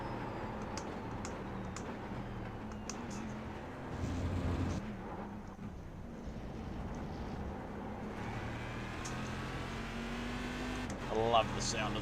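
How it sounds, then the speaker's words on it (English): Race car engine in the iRacing sim, a steady droning hum running throughout with brief louder swells near the middle and end, under occasional clicking and a voice. "This car sounds so good."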